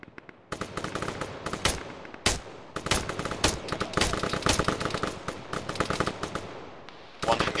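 Bursts of automatic machine-gun fire ring out in a tactical military video game, as long rapid volleys and single sharp shots break off and resume. Radio-style voices speak between and under the shooting.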